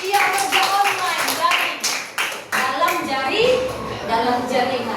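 Children in a classroom clap their hands in a few short bursts of taps, close by, mixed with kids' voices and an adult talking over them.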